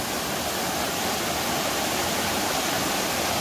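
Water rushing in a mountain stream along the Appalachian Trail, a steady broadband roar that stays even and unbroken throughout, with no voices.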